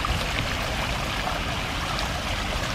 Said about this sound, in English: there's water bubbling out,